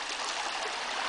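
Steady rush of the Satoka river flowing through the Mariovo region of Macedonia, a continuous close broadband stream sound with no voices.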